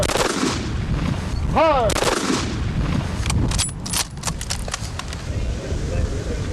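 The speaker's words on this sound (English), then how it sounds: "As the crackling gunfire fades away" Rifle volley fired at a military memorial ceremony, sharp cracks ringing out over the open air, with a commander's shouted orders between shots and a brief whistling tone.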